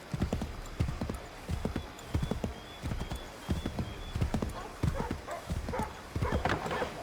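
Horse hooves clip-clop at a steady gallop in Assassin's Creed III, a loud rhythmic pounding that continues throughout, with a brief whinny and outdoor ambience.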